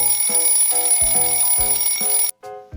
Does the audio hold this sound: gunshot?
no